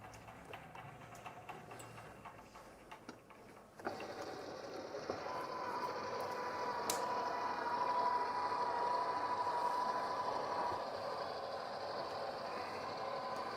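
A Butler Robotics longarm quilting machine bastes down the side of a quilt with a steady mechanical whir and clicking, starting quieter and then settling into a louder continuous hum with a faint tone, and no voices.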